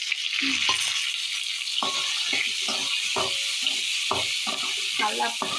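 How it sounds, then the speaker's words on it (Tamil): Garlic, onion and tomato sauté in a pan with a steady bright sizzle. Stirring scrapes and knocks come at intervals over the hiss, and a voice talks briefly. "தக்காளி நல்லா வதக்கி விட்டுக்கலாம்"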